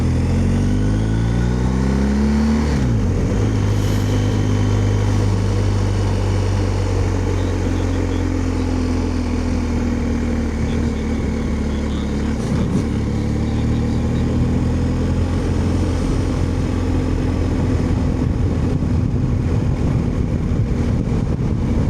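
A BMW R1250 GSA motorcycle being ridden, its loud engine shifting up through the gears in rising whines early on, then settling into a steady, close cruising drone with wind rush.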